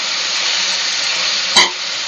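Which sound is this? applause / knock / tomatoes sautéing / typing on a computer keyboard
tomatoes sautéing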